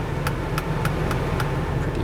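A serviced air-conditioning blower runs inside a 1995 Mercedes-Benz W140 S 320 Long Wheelbase, giving a steady broadband whoosh of air. A faint ticking repeats roughly every third of a second underneath it.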